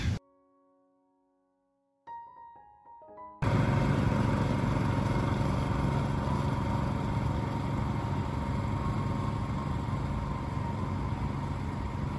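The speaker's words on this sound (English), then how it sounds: "You can see the industrial blower just getting rid of all the leaves on the area." After a quiet opening with brief tones, an industrial leaf blower on a golf course starts up and roars steadily and loudly with a constant engine drone, clearing leaves from the area.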